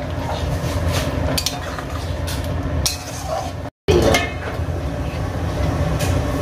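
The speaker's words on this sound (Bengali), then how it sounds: "পুরো জলটা চিংড়ি মাছ সেদ্ধর জন্য দিয়ে দেওয়া হলো। এবার একটু নাড়িয়ে নিচ্ছে" Prawns boiling in water in a wok are stirred, giving repeated metallic scrapes and clinks over a steady bubbling rumble, with one brief silent gap midway.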